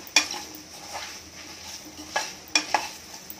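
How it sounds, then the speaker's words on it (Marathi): Drumsticks and carrots sautéing in a pot for sambar: a soft, steady sizzle under a few sharp metallic scrapes and clinks of a stirring spoon, up close with no voices. "या शेंगा टाकूया शेवग्याच्या आणि गाजर पण टाकून घेऊया. आता हे व्यवस्थित परतून घ्यायचं"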